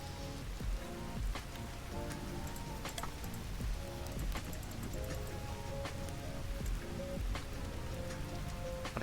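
Steady rain pours in the Vintage Story video game, a dense, even patter with scattered sharper droplet ticks across the whole stretch, close and continuous with no talking.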